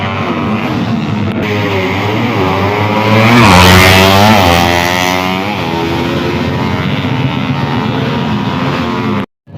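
Racing engines of motorboats roar loudly at the start of a Basilan versus Bukidnon race, steady and close, with pitch climbing and sweeping as the engines rev, no talk over them.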